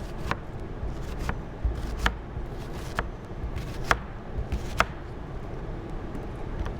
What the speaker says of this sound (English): And what I do is I just go down and make little slices.